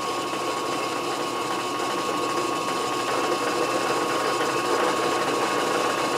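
A metal lathe running in low gear while a threading die cuts a brass rod, giving a steady, continuous mechanical whir and hum at constant loudness without a break.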